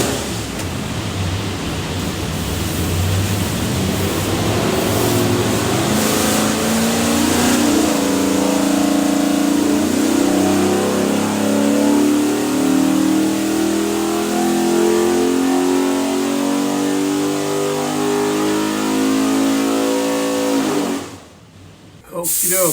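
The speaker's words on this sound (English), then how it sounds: "Alrighty, John, here's the 347 small block Ford." A 347 small-block Ford stroker with a high-ram intake and hydraulic roller cam roars on an engine dyno, its loud pitch climbing steadily through a full-throttle pull before abruptly cutting off near the end.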